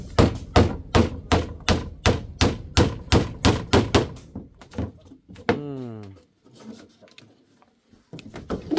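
Wooden poles being hammered into a floor, about fifteen hard, evenly spaced blows, followed by a voice and a few scattered knocks.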